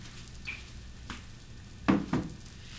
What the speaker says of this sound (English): I'm going to sear them on each side,